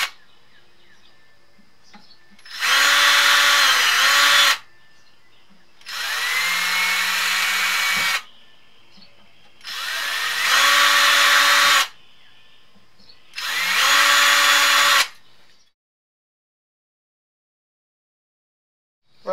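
A power drill boring into the wooden headstock of a cigar box guitar, four separate bursts of a couple of seconds each with steady whining tone, close and loud, followed by silence.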